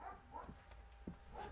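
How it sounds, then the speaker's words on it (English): Puppies bark and yip in short, scattered bursts, faint and somewhat distant indoors, with a brief whimpering quality between calls. "And the puppies are going crazy again."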